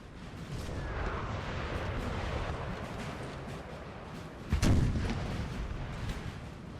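Massed artillery in a Napoleon: Total War battle, with a rolling low rumble of distant cannon fire and one heavy, close boom standing out partway through.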